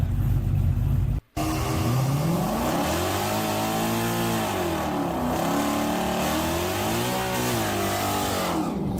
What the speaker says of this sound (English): Let's watch the burnout, guys.